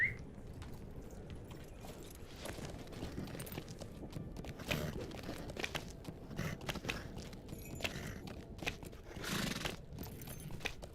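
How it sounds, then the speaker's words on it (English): A horse gallops in the online fantasy game Lord of the Rings Online, with steady clip-clop hoofbeats and occasional whinnies over a continuous busy game background, no talking. "we're going to get on our horse, of course"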